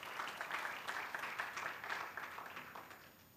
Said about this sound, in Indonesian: Tepuk tangan panjang bagi Tuhan Yesus.